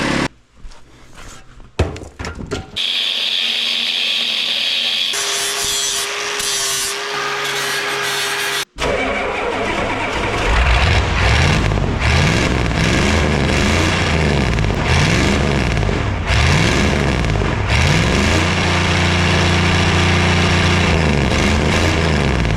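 A 7.3 IDI diesel engine in a screw cab truck fitted with a muffler comes in after some clunks and short mechanical bursts, then runs loud and close with a steady rhythmic diesel knock.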